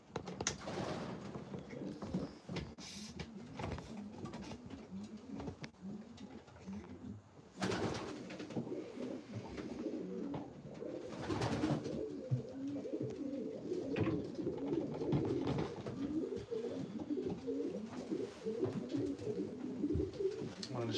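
Pigeons coo steadily in a loft, soft repeated throaty calls close by, with faint tapping in the background.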